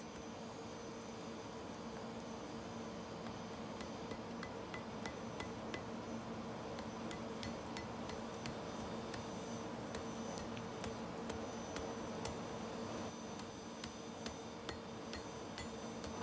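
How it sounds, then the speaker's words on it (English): Faint, steady metallic hammer blows on hot folded bloomery iron during forge welding ring out at a regular rhythm against a constant low roar. "I hammer the fold together"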